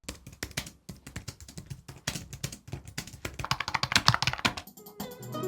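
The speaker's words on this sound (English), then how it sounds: "Here's a sound comparison against my last keyboard and mouse." Soft, muted typing on a quiet computer keyboard patters along in quick irregular bursts, with a few light mouse clicks near the end; nearby, no speech.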